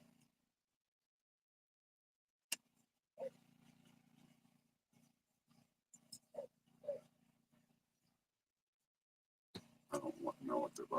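Dogs bark in a few sharp, scattered bursts, followed by a louder cluster of barking at the end, with faint background voices in between.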